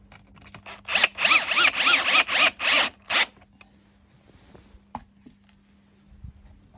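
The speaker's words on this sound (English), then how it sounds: "So now it's time to glue and screw them to the bottom panel." Screws, 4x40 mm, are being driven into a wooden bottom panel of an arcade pedestal cabinet. A run of about seven loud, rasping bursts comes close together, followed by faint clicks and handling noise.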